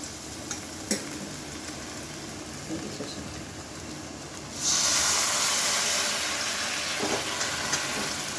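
Okra fries in a pan with a soft crackling sizzle and a few stirring clicks, then a louder, brighter hiss surges as mustard paste is added and holds steady.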